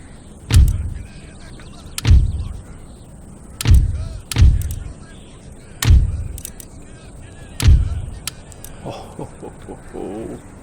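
Heavy 24-pounder cannons fire in a Napoleonic-era Empire Total War battle, six booming shots at irregular intervals of about one to two seconds, each with a deep thud and a rumbling tail over faint background ambience.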